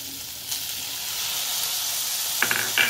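Tomatoes hit a pan of fried masala paste for ragda patties, setting off a loud, bright sizzle that holds steady, with a couple of metallic clinks near the end.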